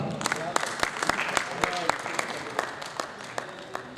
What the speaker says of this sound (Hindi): आपकी तालियों में डॉक्टर सईद इकबाल सादी।